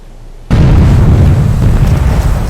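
Torpedoes strike a ship's hull in a WWII naval warfare strategy game, a sudden loud booming explosion after a quiet moment, followed by a heavy sustained rumble that slowly fades.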